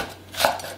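Green chili peppers chopped with a knife, a single short thunk on a board, close and brief, with no talk.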